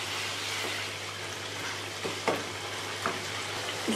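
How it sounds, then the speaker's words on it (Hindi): Chicken and cauliflower curry fries on high heat, a moderate, steady sizzle with a low hum beneath and a few sharp scrapes of a spoon near the end, no speech. "अब हम थोड़ी सी आंच तेज़ करेंगे और इसको अच्छी तरह भून लेंगे"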